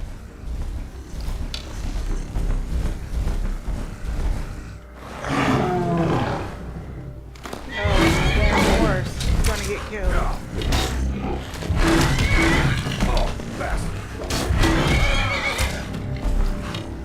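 Skyrim horse whinnies and snorts rise over steady game background noise, with several loud bursts spread across the clip amid busy activity.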